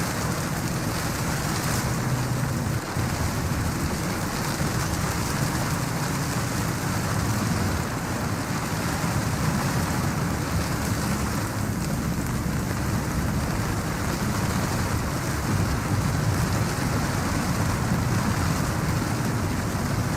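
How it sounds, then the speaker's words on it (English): Heavy storm rain lashes steadily against rusted metal door bars at an abandoned lighthouse. A dense, unbroken hiss of rainfall with a low rumbling undertone continues without pause, with no voices. "Rain lashed against the rusted metal bars of the main door"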